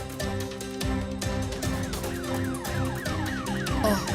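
An ambulance siren wails up close as the vehicle arrives, its repeated rising and falling sweeps loud and steady with no talk over them.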